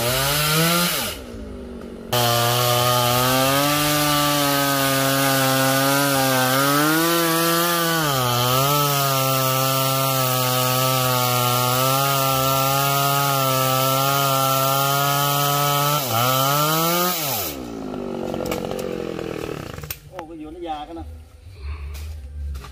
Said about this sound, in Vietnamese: coi như là anh Tùng đã cưa xong một cái cây dừa ở đây rồi các bạn